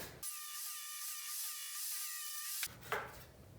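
A power saw rips a 1.5 inch thick wooden board lengthwise in half, one steady high whine for about two and a half seconds, close and loud, then stops and a short clatter follows.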